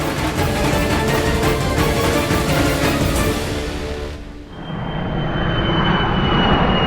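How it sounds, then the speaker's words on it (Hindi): Passenger airplane landing, a loud steady jet engine roar that dips briefly mid-way before a rising whine and continued rumble, with no speech. "लंदन से आने वाली फ्लाइट संख्या GX782 लैंड कर गई है।"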